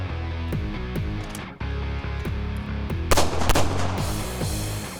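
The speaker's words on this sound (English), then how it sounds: "So let's head to the range and get some reps in live fire." Pistol shots ring out in rapid strings at an outdoor shooting range, loud sharp cracks in quick succession, some overlapping with echoes, a short pause midway before more fast fire.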